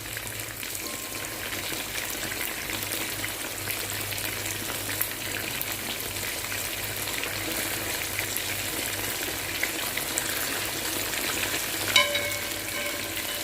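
Chicken wings frying in oil in a pan, a steady close crackling sizzle that runs evenly throughout, with a small clink near the end.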